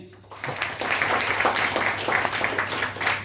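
An audience at a product presentation breaks into steady, sustained applause, a dense patter of many hands clapping at a moderate distance.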